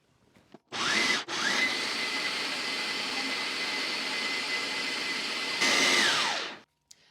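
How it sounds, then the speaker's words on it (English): A food processor blitzes almonds with salt for macaroons, giving a loud whirring motor roar. It runs in a short burst, stops briefly, then grinds steadily for about five seconds before winding down. "we're just gonna blitz that right up in the food processor and roll it into balls"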